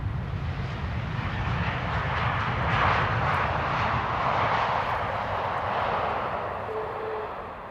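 KLM Airbus A321neo jet at Amsterdam Schiphol, a broad rushing engine roar that swells to a peak and then slowly eases off, loud and continuous with no talk.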